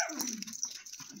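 At an animal shelter in Guwahati, a dog gives a short, close, whining bark at a bird, a single brief vocal burst with nothing else around it.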